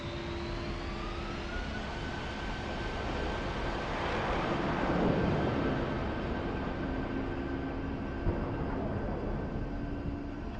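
A jet aircraft in a DCS or War Thunder flight simulator starts to taxi, its engine droning steadily with a sustained whine and rumble that swells slightly mid-clip, alone with no talking.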